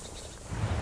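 Frogs call from a pond beside an old tower in the German Green Belt countryside, a low croaking chorus that swells in the second half over a hiss of outdoor ambience, with no voices present.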